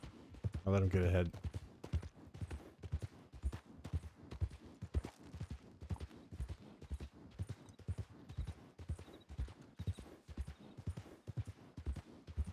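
A horse gallops in the western roleplay video game WildRP, with rapid rhythmic hoofbeats running steadily under men's conversation.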